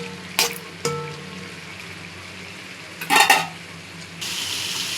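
Chicken varuval, a pepper chicken fry, thickening as it cooks in a pan, with a low steady sizzle broken by a few sharp clinks and scrapes of a spoon against metal.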